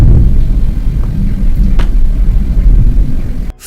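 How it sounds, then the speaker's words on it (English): Deep, continuous rumbling of a violent sea storm around a small fishing boat, a loud low roar holding steady before cutting off abruptly near the end. "The scene changes to a poor fishing man sailing through a dangerous sea storm."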